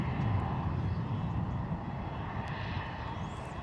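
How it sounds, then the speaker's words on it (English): Pilatus PC-12 turboprop arriving, its steady broad engine roar filling the whole stretch at constant loudness, with no voices heard. "here comes our next arrival, which is our gorgeous little PC-12 as well"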